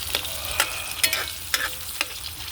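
Onion, tomato and garlic sautéing in a pan, with a steady close sizzle broken by four or five sharp scraping strokes of a spatula stirring the mixture.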